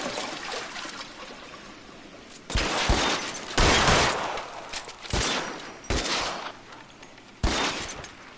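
Repeated gunfire in the L.A. Noire video game, a run of loud broadband bursts that start abruptly and come at irregular intervals of about a second, set against a steady hiss resembling water, with no talking.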